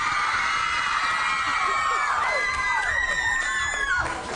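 A studio audience crowd cheers and screams loudly and continuously throughout, with high-pitched shrieks and whoops rising and falling over a dense wall of voices.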